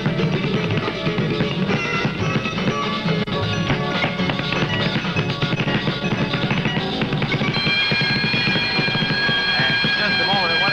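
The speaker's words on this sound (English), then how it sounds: "Apparently, the fire alarm has gone off here in the studio." Fire alarm ringing continuously inside a radio studio building, loud and steady with a harsh repeating tone, while voices talk over it.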